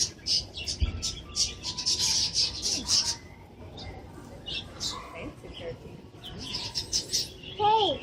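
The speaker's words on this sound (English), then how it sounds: "look at this bird" A pet bird chirps and tweets in short bright bursts close by, with soft squeaks and a rising whistle near the end, while people talk quietly.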